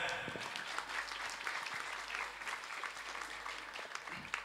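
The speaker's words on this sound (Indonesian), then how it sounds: "Tepuk tangan." Audience applause at a pesantren end-of-year haflah (Haflah Akhirussanah) student performance, a steady wash of many hands clapping at moderate distance, fairly even throughout, with no talk over it.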